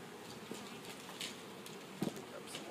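Honey bees buzz around an open hive as a frame is lifted out, a faint, steady insect hum filling the background with a couple of soft knocks near the end.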